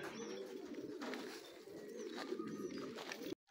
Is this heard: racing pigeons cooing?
yes